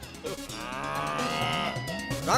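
Angry cartoon buffaloes low in a long, loud, drawn-out bellow that swells and holds, with a brief rising cry at the end.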